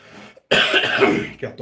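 A single harsh, drawn-out cough close to the microphone, followed by a short rough throat noise.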